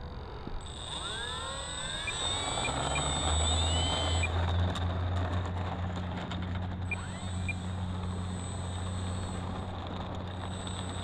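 E-Flite P-51D 1.2m RC model plane on takeoff: a steady electric motor whine with tonal hum and rising pitch sweeps as it throttles up, heard throughout at moderate volume.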